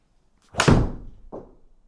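A golf club strikes a ball on a practice shot: one sharp, solid impact with a quickly fading tail, then a softer knock about a second later, with no talking.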